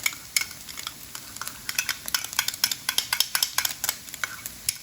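Minced ginger and garlic sizzle in a hot pan while a utensil stirs them briskly, giving a run of close, rhythmic scraping strokes over a constant frying hiss.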